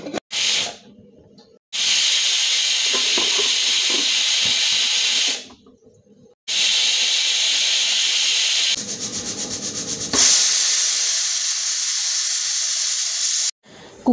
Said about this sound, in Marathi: आता कुकरच्या आपण 3 शिट्ट्या करून घेणार आहोत